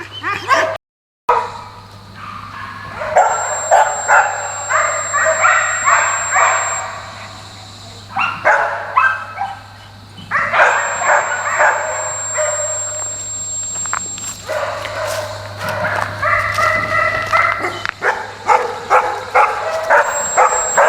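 Several dogs in a working kennel bark, yip and whimper in repeated close, loud bursts, with short lulls between and some footsteps among them.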